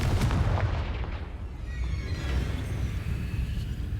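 Confringo fire spell exploding in the Hogwarts Legacy video game, a loud booming blast at the start that rumbles and fades over several seconds with no one talking.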